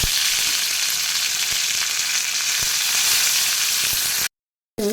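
Dried red chillies and curry leaves frying in hot oil for sambar, a dense, steady, loud sizzle with a few faint clicks, ending in a brief cut to silence before the sizzle resumes.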